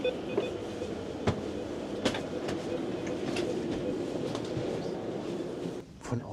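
Inside a Stadler FLIRT 526 battery train on an Erixx service to Kiel, a steady rolling rumble with periodic clicks of wheels over rail joints, briefly easing near the end.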